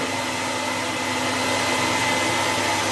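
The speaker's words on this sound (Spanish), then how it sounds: "Pulso nuevamente el botón de congelamiento para poder apagar el secador de pelo." A hair dryer runs in a steady, loud, unbroken whoosh of fan and motor noise during electrical current measurements with a clamp meter, with no speech.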